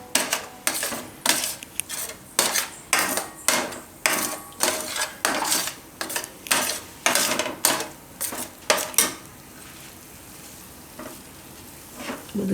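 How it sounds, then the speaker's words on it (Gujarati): Spoon scraping and stirring a chocolate laddu mixture with cocoa powder in a pan over low heat, a run of rhythmic, close scrapes with a soft sizzle, thinning out toward the end. "બધું સાઈડમાંથી આ રીતે મિક્સ કરી લેવાનું."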